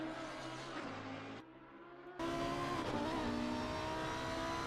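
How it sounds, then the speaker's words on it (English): A Lamborghini race car engine in the video game Assetto Corsa Competizione howls up through the gears at Monza, cuts briefly, then roars back loud and sustained at high revs. "Lovely sound to the Lamborghini as he's coming through Variante."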